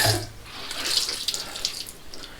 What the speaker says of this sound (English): Let's wash it off with some nice cold water